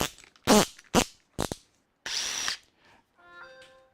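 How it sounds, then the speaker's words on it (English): A large standard power drill fires in short bursts: three quick loud whirs, a longer sustained run, then a fading spin-down with a high whine. "I'm going to use a large standard drill"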